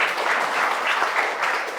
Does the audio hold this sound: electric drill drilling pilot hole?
no